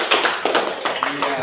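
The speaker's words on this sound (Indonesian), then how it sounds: "Tepuk tangan untuk kelompok BM dia" Classroom applause for a student group after their presentation, a short burst of fairly close hand claps with uneven rhythm, mixed with voices.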